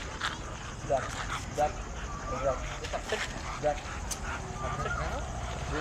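A Rottweiler or German Shepherd gives a few short, sharp barks and yips during a street confrontation, close by and mixed in with steady talking and background noise.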